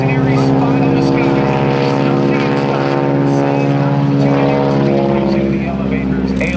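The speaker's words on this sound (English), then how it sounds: "The barrel roll. 45 degrees up and to the left of the airplane." An airplane performs a barrel roll at the 2010 Blue Angels Homecoming Airshow, a loud, sustained engine drone with a steady humming tone, while an announcer talks over it.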